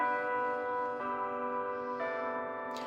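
Church bells toll in slow succession, each strike blooming into a long, ringing hum that overlaps the next, heard at a moderate distance with no talking.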